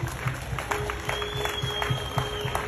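Steady applause from an audience at a ceremony for Bongo Flava artist Fid Q receiving an award, an even, moderately distant patter of clapping with faint voices beneath.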